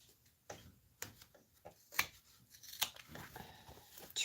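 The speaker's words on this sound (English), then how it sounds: "we're going to trim the excess for the strap connector" Scissors snipping excess fabric for a pouch strap connector, a series of sharp, close cuts spaced about every half second, with faint crinkling of the material between snips and no talking.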